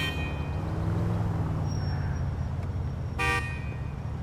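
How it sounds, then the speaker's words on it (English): Car horns honk in Grand Theft Auto IV street traffic, a steady drone of engines and city noise topped by a short, loud multi-tone horn blast near the end, with a fainter high tone earlier. "It's like they're not used to people honking."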